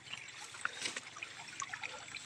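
A fast-flowing river current where people fish for snakehead with a banana-stem rod, heard as a continuous close trickling and gurgling of water with small splashy bubbles and no talking.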